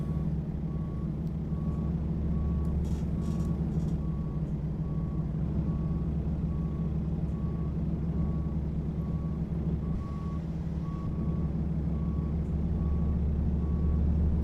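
A Peterbilt 359 reversing in American Truck Simulator sounds a steady, evenly spaced backup beep over a constant low diesel engine rumble throughout.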